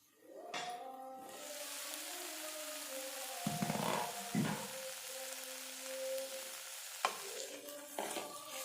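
Raw papaya chutney cooks over a low flame with a soft, steady sizzle, broken by a few stirring scrapes and light clinks of a spoon against the pan.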